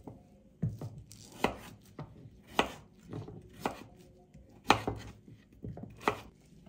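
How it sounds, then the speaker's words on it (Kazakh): A knife chops pumpkin into square pieces on a board for a dessert, giving about nine sharp, separate cuts at an uneven pace, close and clear against a quiet room. "асқабақты осылай 4 бұрышты етіп турап"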